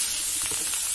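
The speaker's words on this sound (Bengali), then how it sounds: "তো তেলটার মধ্যে হলুদ দিয়ে দিলাম আগে, তেলটা একটু নেড়ে চেড়ে তারপর একটু মরিচের গুঁড়া দেবো।" Turmeric and chili powder sizzling in hot oil, a brief steady close hiss with a few soft stirring scrapes.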